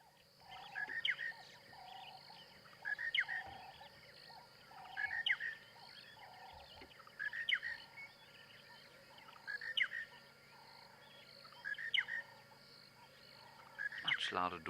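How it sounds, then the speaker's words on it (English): A loud dawn chorus in the African bush at sunrise: monotonous larks, laughing doves, Cape turtle doves, sparrows and the odd francolin. The rhythmic calls repeat roughly every two seconds over a steady background of birdsong. "Much louder dawn chorus than we had the other day. Monotonous larks, laughing doves, Cape turtle doves, sparrows, the odd francolin"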